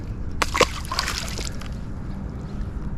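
A drum fish released into the water makes a brief splash and slosh near the start, then quieter lapping water for the rest of the clip.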